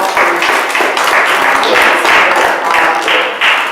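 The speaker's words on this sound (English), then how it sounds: "Let's give her a nice round of applause for coming out" Loud, dense clapping from an audience at a community event, steady and close throughout with pulsing swells, no voices over it.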